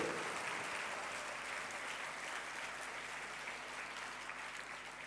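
A church congregation at a Christmas Mass applauds together, with sustained, moderately distant clapping that holds steady for several seconds before easing slightly.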